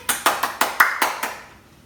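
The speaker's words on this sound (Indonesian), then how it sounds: "tepuk tangannya" Seven sharp hand claps ring out at a steady, even pace in a children's online church service, loud and close, then fade away with no voices over them.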